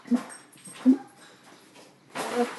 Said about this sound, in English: Hey, big dog, what you doing?